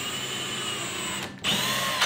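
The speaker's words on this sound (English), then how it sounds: "Best practice on these is to drill a little pilot hole." A power drill bores a small pilot hole in wood for cabinet pulls, a steady high whine that cuts out briefly and restarts louder, close and alone.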